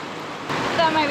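River water flows steadily in an Idaho river with slippery rocks, a continuous close rushing wash that grows slightly louder and fuller partway through, with no talk over it.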